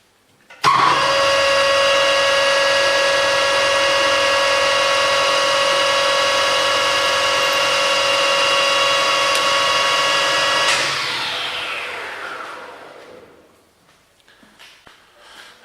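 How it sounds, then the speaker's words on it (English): A machine motor spins up to a steady high whine for about ten seconds while a centre drill bores into metal, then winds down slowly, with faint clinks afterward. "We need to use a centre drill first of all."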